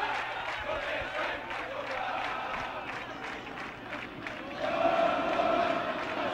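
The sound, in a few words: Vasco fans chanting in the football stadium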